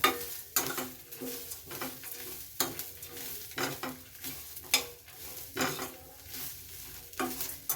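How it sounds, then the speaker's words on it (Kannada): A thick onion frying on low heat in a pan for village-style chicken sambar, stirred with a spoon that scrapes and clinks against the metal in regular strokes over a soft, continuous sizzle. "ಒಂದು ಈರುಳ್ಳಿ, ದಪ್ಪದೊಂದು ಈರುಳ್ಳಿ. ಇದನ್ನು ಫ್ರೈ ಮಾಡ್ಕೊಳ್ಳೋಣ"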